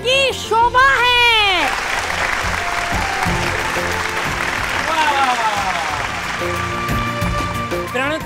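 An audience claps steadily through the middle, with voices and bright tonal sweeps sounding over the applause at the start and end.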